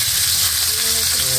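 Tilapia fries in hot oil, a loud, close, continuous sizzle and crackle with a faint hum underneath.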